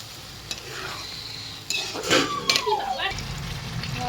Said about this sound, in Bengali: জলটা দিয়ে আবার একটু কষিয়ে নেব